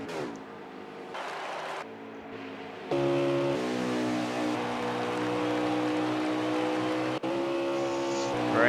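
Race cars on the track at Charlotte Motor Speedway during an International Racing Association All Star Race: a loud, sustained engine roar with strong harmonic whine, swelling sharply as cars pass close, nearly continuous with a brief dip near the end.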